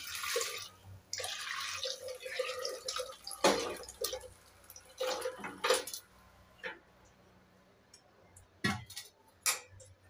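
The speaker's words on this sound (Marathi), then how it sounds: "आता यामध्ये आपण जे चिकन शिजवून घेतलेलं पाणी आहे तेच टाकून घेते." Chicken cooking water poured into a curry pot for chicken rassa, heard as intermittent splashes and drips with a few metallic clinks of utensils against the pot, near and moderately loud with quiet gaps between.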